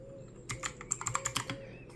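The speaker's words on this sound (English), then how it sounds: "Let me just try the spacebar to make sure that we're working." Keys pressed on an AJAZZ AK992 wireless hotswap gaming keyboard with RGB lighting, mostly the spacebar: a quick run of about eight crisp, close clicks over roughly a second, with no talk.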